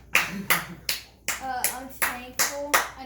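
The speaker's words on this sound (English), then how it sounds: "You stop clapping." A child claps hands in about eight sharp, separate claps, spaced unevenly at close range, with faint voices and tonal sounds between some of them.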